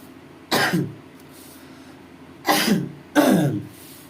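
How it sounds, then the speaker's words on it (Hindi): Three loud, close coughs, one alone and then a pair in quick succession, with quiet pauses between them. "खांसी हो गया थोड़ा सा"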